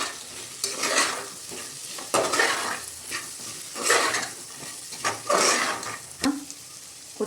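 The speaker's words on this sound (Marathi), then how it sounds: "मी 2 मिनिटं आता परतून घेतलेला आहे" Masala rice with garam masala, coriander powder and fresh coriander sautéed in a pan, with a spatula stirring and scraping in bursts over a soft sizzle, close and fairly loud, no talking.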